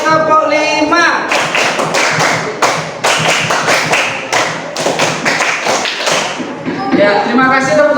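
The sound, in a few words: children clapping three times in rhythm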